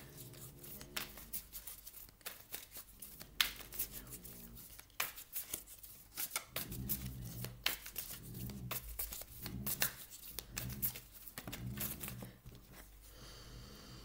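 Playing cards slide and shuffle across a table in a run of soft, quick scrapes and taps, close and quiet, with brief pauses between handling bursts.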